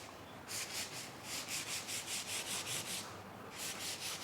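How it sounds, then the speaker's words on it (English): Light hand sanding of a wood veneer surface with 220 grit sandpaper, heard as a run of steady rhythmic back-and-forth rubbing strokes, close and fairly quiet, with brief pauses between sets of strokes. "we just sanded it with 220 grit sandpaper"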